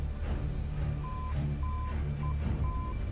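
Repeated short tonal beeps from the TACAN and ILS navigation aids sound in an F-16 cockpit in the DCS flight simulator, spaced irregularly over a steady low engine rumble and airflow.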